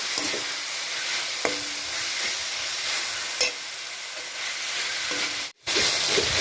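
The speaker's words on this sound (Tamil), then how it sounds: "நம்ம போட்ட குடமிளகாய், ஆனியனு, தக்காளி எல்லாம் நல்லா வதங்கியிருக்கு" Capsicum, onion and tomato sauté in a pan with a steady, loud sizzle and hiss, broken by a few sharp clinks of a spoon against the metal and a brief dropout near the end.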